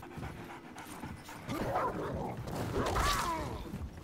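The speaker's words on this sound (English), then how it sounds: "Pet the doggy!" A dog in the video game Remnant: From the Ashes pants in quick, rhythmic breaths with faint whimpering, close and moderately loud over quiet game ambience.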